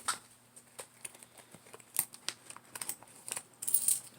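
Small metallic clinks and taps of coins spilled from a plastic bag being handled and shuffled, scattered irregularly and fairly close, with no talking.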